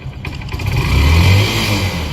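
A motorcycle engine close by, throttle opening into a brief rising growl that swells and then eases back as the throttle rolls off, all within a couple of seconds.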